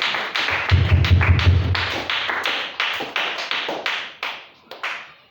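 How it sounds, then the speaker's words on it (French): A church congregation applauds loudly for three people who answered, a dense burst of clapping with sharp, repeated hand claps that thins into scattered claps toward the end, with no talking. "Acclamez très fort pour les trois qui ont répondu."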